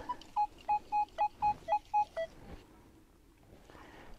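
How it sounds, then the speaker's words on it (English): Nokta Legend metal detector sounding a run of about eight short, even tone beeps at one pitch, steady and close, then falling quiet, while hunting a colonial site in Vermont. "Okay, I think I got another good signal here."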